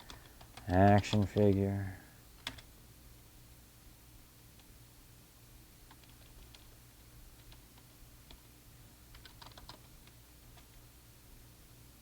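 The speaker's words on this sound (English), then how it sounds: "Oh God, terrible typing." Someone types on a computer keyboard in scattered, irregular clicks after a short spoken phrase, and the keystrokes stay faint and sparse over a quiet background.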